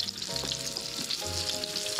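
Crab pieces, shells, bodies and claws, spit and crackle in very hot oil as they fry, a dense close sizzle with sharp pops throughout, no voices over it.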